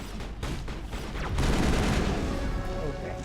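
Gunfire in the Mass Effect video game, with a quick string of shots followed by a louder, denser burst of sustained fire, close and forceful, with some speech in the mix.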